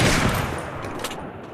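Gunfire in the mobile battle game Free Fire Max begins with a loud dense burst of shots that fades into a ringing tail with a couple of fainter cracks.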